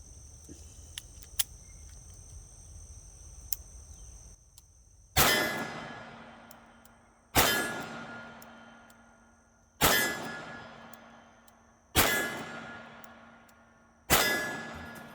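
A double-action revolver trigger is dry-fired five times at a slow, even rhythm, each pull ending in a sharp metallic clang that rings out briefly. Fainter clicks come first.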